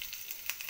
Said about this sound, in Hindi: मेरा तेल गरम हो गया, अब इसमें मैं मूंग दाल का मिक्सर डालूंगी